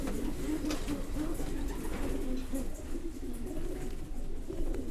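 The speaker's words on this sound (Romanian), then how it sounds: "Cam așa arată porumbeii în crescătoria noastră de reproducție și puii reproduși din prima serie" Pigeons in a breeding loft coo steadily in low, rolling bursts throughout, a close and continuous murmur with no other sound standing out.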